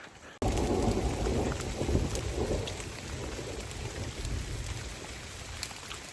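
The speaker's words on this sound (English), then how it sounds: "That's real thunder." Steady rain pours down with rumbling thunder rolling underneath, a dense, continuous storm wash with no voices.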